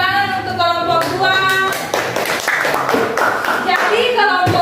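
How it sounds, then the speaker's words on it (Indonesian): A classroom group applauds group 2 after a speaker's voice fades, with a dense patter of hand claps rising midway and continuing to the end, fairly close and loud. "tepuk tangan untuk kelompok 2"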